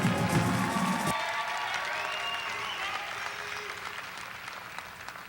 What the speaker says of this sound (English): let's have another round of applause for our student athletes from Saxe High School